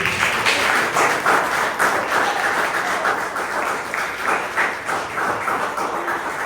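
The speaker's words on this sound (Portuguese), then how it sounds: "Quantos podem aplaudir o Senhor por isso?" A church congregation at an evangelical campaign service in Manaus claps for the Lord, a sustained, loud, dense applause with faint pulsing rhythm and no speech on top.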